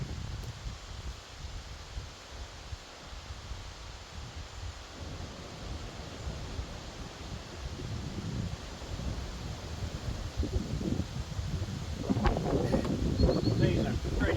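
Wind blows outdoors near stacked firewood rounds, a constant rushing roar that buffets the microphone and grows a little stronger toward the end.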